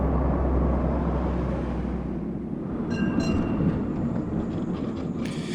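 A city tram car rumbles past in a video game, a loud low rolling drone that thins out midway, followed by faint high metallic squeals and clicks.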